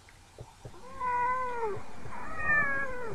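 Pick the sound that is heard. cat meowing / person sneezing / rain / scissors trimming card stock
cat meowing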